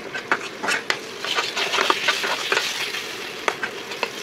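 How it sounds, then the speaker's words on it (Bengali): Masala is stirred steadily in a hot kadai as it fries for a Bengali katla fish curry: a continuous sizzle with sharp scrapes and knocks of the spoon against the pan, close and moderately loud, with no talking. "কন্টিনিউয়াস নাড়িয়ে যেতে হবে, তা না হলে মশলাটা কড়াইয়ের গায়ে লেগে যাবে"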